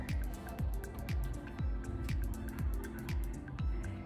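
Acrylic paint in three shades of purple with white, poured in a straight pour, makes steady, rhythmic glugging drips about twice a second. The sound is close and moderately loud, with no talk.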